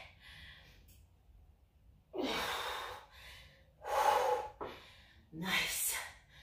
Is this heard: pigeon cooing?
no